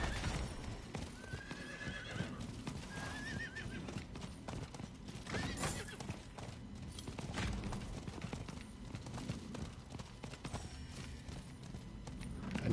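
Horse in the video game Diablo IV, running with steady clip-clop hoofbeats under dense game effects and music, with a couple of whinnies early on, fairly loud and continuous.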